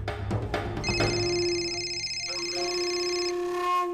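An indoor telephone rings with a bright, sustained electronic tone layered in steady harmonics, preceded by a few short clicks and a faint thump, then the ring settles into a softer lingering tone; no speech.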